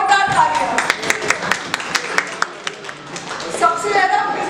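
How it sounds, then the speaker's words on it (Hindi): An audience at a start-up finance workshop stands and claps, giving a burst of scattered, sharp individual claps, not dense applause, with a voice speaking over the start and end. "जोरदार तालियां।"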